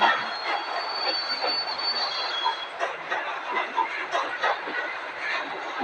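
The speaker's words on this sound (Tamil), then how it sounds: "நம்மள மாதிரி ஒரு ட்ரெயின் முன்னாடி போயிடுச்சு." A passing train in a local train simulator video game rumbles with wheel squeal and metallic screeching, a rolling rhythmic clatter that stays loud and close throughout, with no talking over it.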